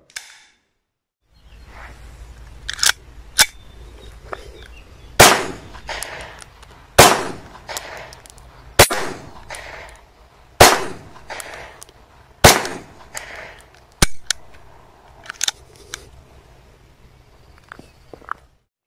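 A Bruni 84 blank-firing pistol, replica of the Beretta 84, cracks out about a dozen sharp, loud shots at irregular intervals, each followed by faint mechanical clicks, with no talking.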